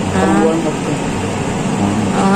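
A window-type air conditioner unit runs with a loud, steady mechanical hum and rattle while a person talks over it.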